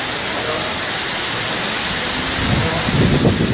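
Heavy monsoon rain pours onto a flooded street outside a hotel cafe in Hyderabad, a steady dense wash of noise that swells louder toward the end.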